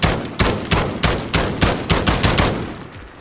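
Automatic weapon gunfire in Call of Duty: Modern Warfare, fired from the hip or while aiming down sights, comes as a series of about nine evenly spaced loud, punchy shots with short echoing tails.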